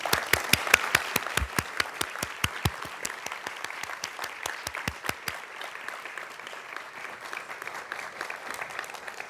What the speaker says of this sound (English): give you some applause